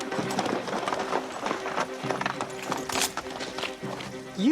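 Horses clip-clop in a busy, uneven rhythm of hoofbeats in an adventure-drama scene, fairly quiet under other activity, with a short neigh rising at the very end.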